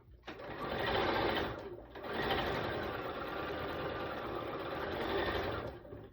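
A sewing machine stitches the sides of a quilt block together with a quarter-inch seam, a close, steady mechanical whir that runs briefly, pauses, then resumes for a longer continuous stretch.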